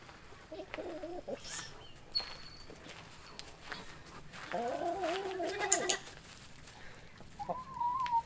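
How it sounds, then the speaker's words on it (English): Chickens cluck and squawk nearby in a busy farmyard, with scattered calls rising over a steady rustling background. "Look at these chickens all around him."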